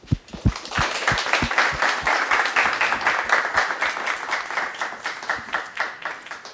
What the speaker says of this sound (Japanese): 最後に皆さんあの拍手で、えー、締めたいと思います。